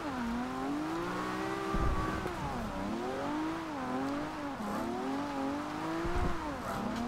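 A Nissan Skyline 2000GTR drifts in the video game Forza Horizon 2, its engine droning steadily with the pitch rising and dipping repeatedly as the throttle is worked, at moderate volume and with no talk.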